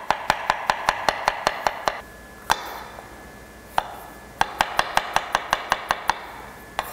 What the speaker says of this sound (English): We're just gonna chop them up and throw them in with the onions.